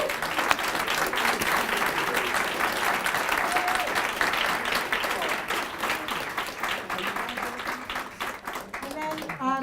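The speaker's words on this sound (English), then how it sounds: "if we could give our panelists a round of applause" Audience applause for panelists at a job training panel, a loud, dense wave of clapping that gradually tapers and thins, with voices and chatter rising in the room as it fades.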